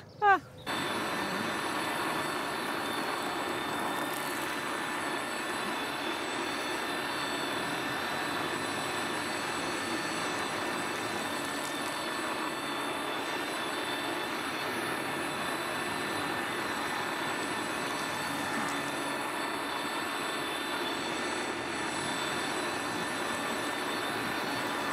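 A Stihl Kombi power tool fitted with a wheel kit attachment runs continuously after a sharp start, a steady high-pitched engine whine and hum holding for the whole stretch, with no talk.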